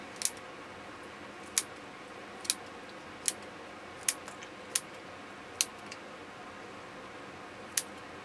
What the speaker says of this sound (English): So I'll get the scissors and we'll just trim them.